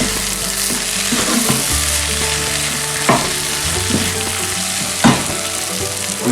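Black rice "mince" fries in a pan, sizzling steadily up close while a spoon stirs in nutmeg, with a couple of scraping clinks against the pan.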